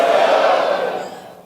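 A large audience at a goal-setting seminar shouts "let's go" together in one loud collective yell that quickly fades away.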